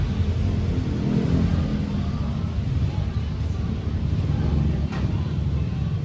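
Kia Carnival twin cam engine idling with its bay freshly cleaned, a steady low mechanical drone with slight swells, close and continuous, with faint voices in the background.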